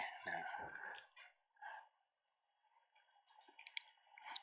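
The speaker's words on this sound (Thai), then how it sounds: "ก็มาคลิกที่ ตรงปุ่มตัวนี้นะครับ" A computer mouse clicks while precast concrete design software is being used, with several quick, faint, close clicks clustered near the end after some soft indistinct sounds.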